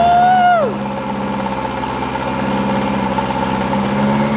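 A race car engine cranks with a rising starter whine, then settles into a loud, steady rumbling idle that continues throughout.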